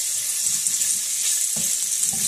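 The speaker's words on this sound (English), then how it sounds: "And this is cooking up pretty nicely." Ground bison frying in butter in a pan gives a steady, loud hissing sizzle that runs without a break, with a couple of soft scraping stirs underneath.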